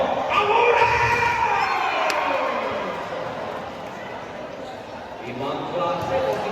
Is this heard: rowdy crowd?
yes